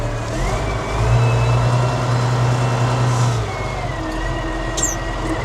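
A Case Maximum 5140 tractor engine running nearby, a steady low diesel drone that swells briefly louder in the middle before settling back to an even idle, alone without speech.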